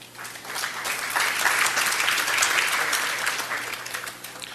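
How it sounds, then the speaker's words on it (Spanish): Conference audience applauding an introduced speaker, many hands clapping in a dense wash that swells in the middle and holds steady, fairly loud and with no talking. "Un aplauso."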